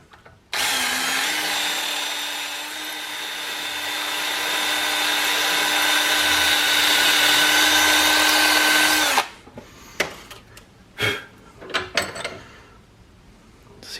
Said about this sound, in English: what we'll do is run that drill bit up and down on that thing